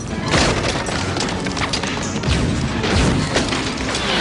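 A gun fires during a stunt shoot on the 1993 set of Cliffhanger, a loud continuous wash of rapid blasts and rumbling noise with no clear break.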